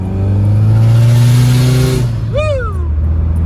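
Subaru Forester XT engine revving with OTL coils, a loud sustained rev that climbs then drops off, followed by a quick sharp blip rising and falling, heard up close.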